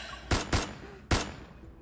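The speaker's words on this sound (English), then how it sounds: "A gunshot explodes in the empty reception hall." Three sharp gunshots from the video game Love and Deepspace ring out in an empty reception hall, two in quick succession and a third after a short pause, loud and close with a brief echoing tail.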